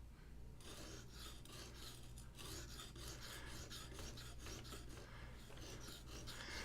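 Steady rasping scrape of a knife blade being sharpened, a full flat grind, in a woodworking shop, repeated strokes continuing evenly and close up over a low constant hum.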